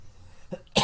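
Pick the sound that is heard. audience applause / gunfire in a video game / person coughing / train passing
person coughing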